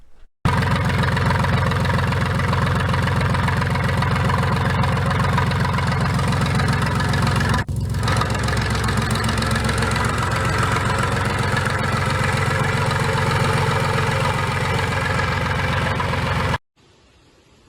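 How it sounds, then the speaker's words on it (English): An IH UD-16 power unit engine runs on gas with a loud, steady, chugging idle, close by and continuous, starting and stopping abruptly. "video of the UD-16 running on gas back in 2017"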